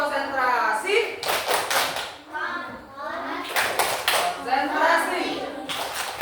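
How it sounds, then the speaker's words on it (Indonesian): Schoolchildren in a first-grade classroom perform a rhythmic concentration clap, bursts of clapping in patterned groups alternating with children chanting together, close and loud. "coba kita tepuk konsentrasi"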